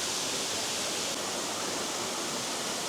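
Steady broadband rush of a waterfall on Dinghu Mountain, continuous and fairly loud, with no talking over it.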